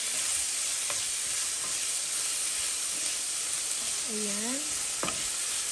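Beef browning in a hot pan for kaldereta, a loud, continuous hissing sizzle close up with a few faint knocks, while a voice speaks briefly over it.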